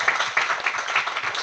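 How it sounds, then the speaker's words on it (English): Audience at a Women In Tech evening event giving a round of applause, brisk continuous clapping from many hands. "A round of applause to all you for taking the time to be here with us tonight and support these wonderful ladies."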